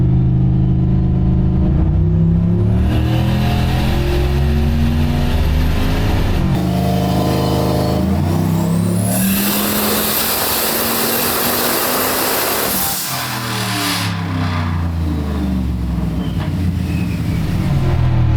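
A turbocharged LS-powered Oldsmobile on a dyno with a Holley Terminator X, revving loudly through repeated sweeping pulls with a rising turbo whine, close up and with no talking.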